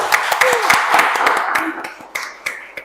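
Scattered clapping from an audience at the OEC 2023 competition final, individual claps audible rather than a full roar, with a voice speaking over part of it.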